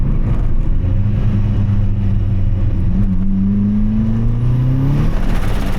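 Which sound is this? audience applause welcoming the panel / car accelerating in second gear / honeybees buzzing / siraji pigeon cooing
car accelerating in second gear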